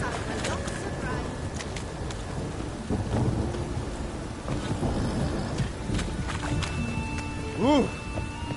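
Steady heavy rain and rumbling thunder in a video game, a dense continuous wash with a brief voiced exclamation near the end.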